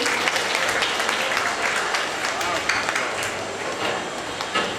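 Audience applause at a community notebook distribution event, steady dense clapping sustained throughout with a faint murmur of voices beneath.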